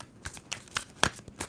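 Soft, quick riffles and flicks of a tarot deck being shuffled by hand, a few separate bursts of crisp card noise, close and fairly quiet, with no talking.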